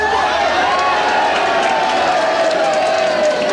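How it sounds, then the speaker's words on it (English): A soccer crowd cheers throughout a National Soccer League match between Sydney City and Newcastle KB United, a steady, loud roar of many voices with a commentator speaking over it. "And the cheer is for Peter Rampley falling over as Willie Murray hoists his crossover"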